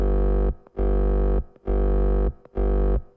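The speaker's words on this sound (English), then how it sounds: "So let's just activate the distortion first." Heavy distorted hardcore kick drum hits repeat in a steady pattern, four long booming tones with gritty, saturated overtones and short gaps between them.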